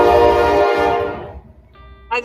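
A passing train's horn blares loud then fades away over a couple of seconds, leaving quiet with a faint brief tone and a short noise burst at the end.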